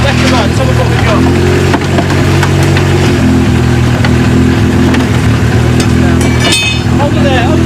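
Colin McRae's crashed Ford Sierra rally car from the 1990 Circuit of Ireland Rally, under repair, runs at a loud, steady idle close by, with clattering workshop noises and people talking over it.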